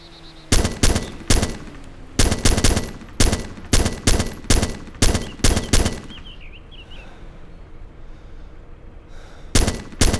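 Rapid bursts of automatic gunfire in the video game Arma 2, loud, close cracks in quick volleys that pause for a few seconds and then resume.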